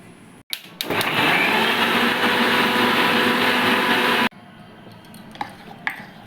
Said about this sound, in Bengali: এক চামচ সর্ষে আর এই ধনে পাতাটা দিয়ে একটু জল দিয়ে আমি মিক্সিতে বেটে নেব